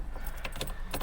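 Keys jangle in short metallic bursts while someone tries the ignition key of a classic Pontiac, with faint engine-bay rumble underneath.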